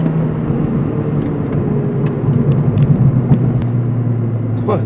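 A Renault Clio RS 18 engine revs up under acceleration, a steady close rumble with a rising hum, with no talk over it.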